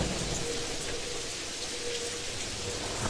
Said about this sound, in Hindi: बाहर बारिश शुरू हो गई थी।